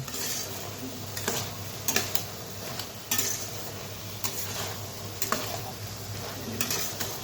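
Turmeric and Kashmiri chili powder are stirred into a curry of black chickpeas and taro in a pan, a low sizzle under periodic scraping strokes of a spoon, close and steady, no voices.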